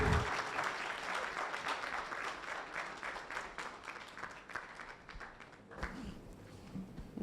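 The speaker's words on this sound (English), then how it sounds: "Please, with a big round of applause, shall we welcome Honorable Sarah Adwoa Safo" An audience at a ministry stakeholder consultation gives a round of applause to welcome an honorable member of parliament, steady clapping that fades toward the end before a thump and a few scattered claps.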